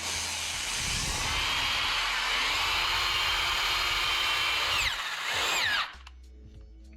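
Power drill boring into a metal turbo drain part being modified for an eBay turbo kit on a budget K-swap build, a steady loud whine for about six seconds before cutting off, then a quiet room.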